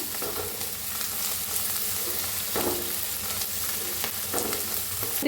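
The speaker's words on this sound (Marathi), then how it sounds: "कसं भाजून घ्यायचं याला जास्त नाही भाजायचं" Cabbage manchurian fries in a pan with a constant close sizzle, broken by a few louder stirring scrapes and no speech.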